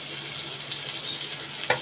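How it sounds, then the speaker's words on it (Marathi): Garlic cloves and curry leaves fry in about a tablespoon of hot oil for a Konkani egg curry, giving a soft, steady sizzle with a brief clink near the end. "आता आपण त्याच्यामध्ये लसणाच्या पाकळ्या ॲड करूया"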